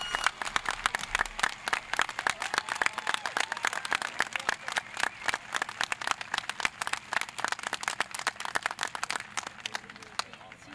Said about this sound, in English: a round of applause for these newest enlistees